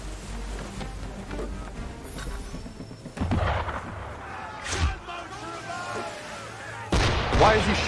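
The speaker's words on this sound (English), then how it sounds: "Why is he shooting at us?" Cannon fire from a ship in the Assassin's Creed III video game: several deep booms land over a rushing, rain-like background, with a heavier blast near the end.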